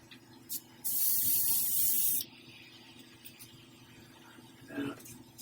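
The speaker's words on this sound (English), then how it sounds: "So I was going to do it right with my airbrush." A hobby airbrush sprays paint onto a 1/4-scale Beast prototype figure in one steady hissing burst of about a second and a half, preceded by a tiny puff, over quiet room hum.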